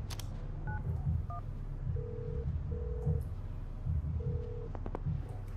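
A phone is dialed in FIFA 19: two short keypad tones sound, then a low ringback tone pulses three times at steady intervals over a quiet hum.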